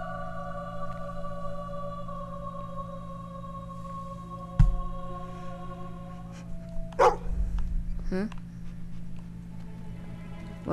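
A dog in the video game Fable 2 gives a few short, sharp barks against a steady musical drone, with a couple of soft yips and low rumbles between them.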